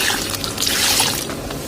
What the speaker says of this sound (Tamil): இந்த தண்ணியை நம்ம நேற்று சாணம் போட்டு விட்ட செடிக்கு அப்படியே கொஞ்சம் ஊற்றி விட்டுருவோம்